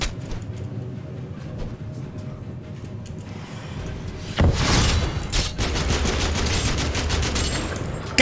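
Gunfire from a big recoil weapon in the game TABG starts halfway through as a loud, rapid burst of shots and carries on in dense volleys over quieter game ambience, with no talking.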